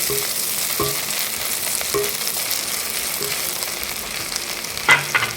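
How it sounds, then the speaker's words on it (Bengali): Ginger and garlic frying in a pan for a prawn and bottle gourd curry, a steady sizzle with occasional stirring clinks and scrapes, close and moderately loud with no talk. "এখন এটাকে একটু ভাজা ভাজা করবো"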